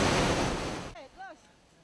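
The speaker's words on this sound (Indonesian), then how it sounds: "gelombang air laut di Pantai Kuta bahkan mencapai 3 meter" Loud surf from high sea waves, swells reaching around three metres at Kuta Beach in Bali during bad weather, washing up toward the vendors' stalls, a dense roaring wash that cuts off abruptly; a brief voice follows afterward.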